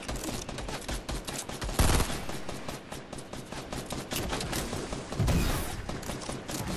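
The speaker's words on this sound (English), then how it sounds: "George, shoot your tubes." Dense automatic weapon fire from a Fortnite squads match rattles in fast, continuous bursts with overlapping shots and a few heavier blasts, loud and close, with no talking.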